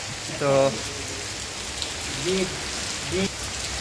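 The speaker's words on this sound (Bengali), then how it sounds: "অলরেডি প্রচুর বৃষ্টি হচ্ছে" Steady hiss of rain falling on a surface throughout, with a couple of brief voices or tonal sounds rising over it.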